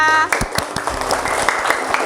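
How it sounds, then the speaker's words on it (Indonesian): Classroom applause for a primary school student after an answer on human digestion, a burst of scattered claps from a small group that fades quickly after the first moments. "Tepuk tangan untuk Keisha."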